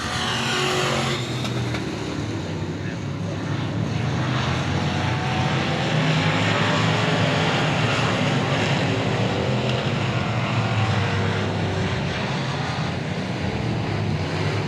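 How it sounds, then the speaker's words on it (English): IMCA Sport Mod race cars roar around a dirt speedway in a heat race, a dense, continuous loud engine drone with a field of cars passing close throughout. "Green flag, we're underway here in the IMCA Sport Mods Heat Race number 1."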